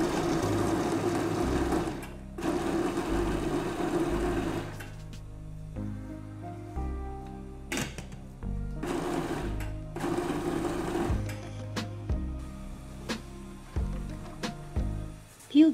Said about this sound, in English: Prepare the black zucchini in the mixer.